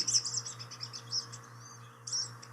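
Short, high zip-like bird calls from a marsh, a few brief bursts near the start and again near the end, over a low steady hum and a faint background wash.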